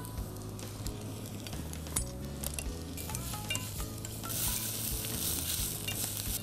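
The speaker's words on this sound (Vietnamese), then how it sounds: "Rồi mình sẽ cho hết cái phần bao rô này mình xào" Leek and lemongrass stir-fried in a pot for a vegetarian sour-spicy curry, giving a steady close sizzle with scraping stirs and occasional clinks of utensil on metal, no talking.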